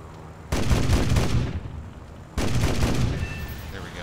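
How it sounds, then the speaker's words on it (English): Two heavy bursts of 37mm cannon fire from a Soviet Yak-9T fighter in War Thunder, each a dense, booming volley lasting about a second, loud and close, separated by a short lull under engine drone. "That 37mm just is devastating."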